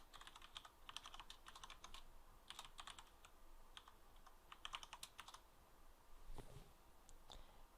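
Keys clatter on a computer keyboard while a root password is entered, in short bursts of quick taps separated by brief pauses, close and fairly quiet in a still room.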